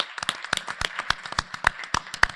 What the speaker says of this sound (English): Let's give them a round of applause for USM.